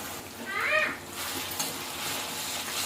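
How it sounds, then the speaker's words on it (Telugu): Tempering sizzling and frying in a pan, a steady broadband hiss throughout with a brief squealing scrape or stir near the start; fairly close, no talk. "ఇక్కడ ఈ దోరగా వేయించాలి కదండి"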